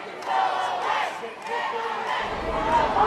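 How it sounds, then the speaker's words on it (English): A large protest crowd outside an NRA convention chants and shouts together in rising and falling waves, dense and loud, heard from within the crowd. "The crowd outside the convention is as animated as the crowd inside."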